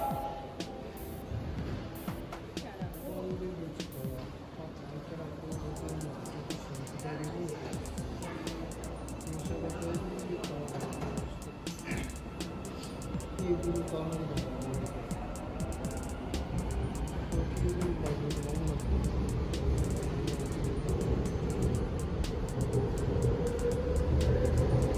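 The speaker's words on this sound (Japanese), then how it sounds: "なんかすごい IGBT インバーターの音が聞こえたような気がしたんですけど" Subway train departing Myeongdong station in Seoul, with a rising IGBT inverter motor whine climbing in pitch over rumbling wheels and station noise, fairly loud and continuous.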